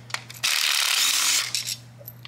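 A battery power tool whirs in one short burst of about a second, close by, during teardown work on a 2007–2016 Harley-Davidson Touring motorcycle, with a few small clicks before and after.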